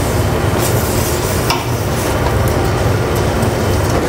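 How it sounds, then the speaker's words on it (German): A spoon stirs beer goulash with onions as it braises in a pot, producing a loud, dense, continuous scraping and bubbling texture up close. "Und immer wieder mal gut umrühren."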